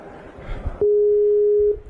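A Skype call connecting on a computer sounds a single steady electronic tone lasting nearly a second, loud and clean, just after a short burst of indistinct voice and room noise.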